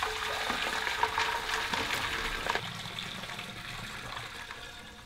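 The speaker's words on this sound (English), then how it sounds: "we're gonna grab our funnel, fill it up with water" Water pours through a funnel into a 5-gallon keg already holding about 2 pounds of ice, a steady splashing, trickling flow close by that eases slightly toward the end.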